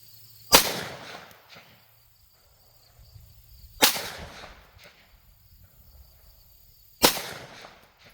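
Pistol gunshots at a shooting range from a SIG M17 (P320), an Echelon or a Smith and Wesson M&P 2.0: three loud, sharp, close reports spaced about three seconds apart, each followed by a short decaying echo.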